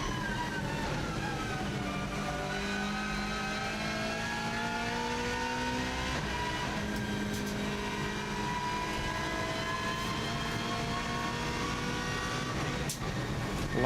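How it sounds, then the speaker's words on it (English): A Subaru Impreza rally car pulls hard on a mountain road course, its engine note climbing steadily through the gears. It is heard from onboard, with a continuous loud drone and wind under it, and no talk. "You can see how much quicker this car accelerates from the 120 right the way through to 170."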